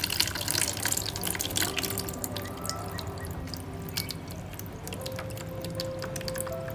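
Water flushed through Pafcal chips in a plant pot, a close trickling and dripping stream over the clay chips that is loudest at the start, then settles into a steadier, quieter flow.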